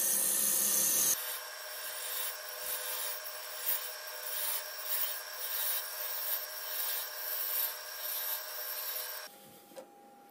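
A wood lathe gouge cuts out the inside of a lidded wooden box, giving a steady scraping, rubbing rasp that runs continuously with small bumps and surges, close and fairly loud, after a brief louder opening burst.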